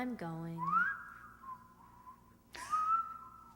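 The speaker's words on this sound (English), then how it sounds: "Mother, that whistle." Human whistling, a two-note rising wolf-whistle type call: a sliding upward tone that holds, then a second swoop upward after a pause, fairly close and clear in a quiet indoor setting.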